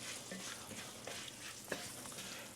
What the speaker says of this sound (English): They're sizzling up nicely.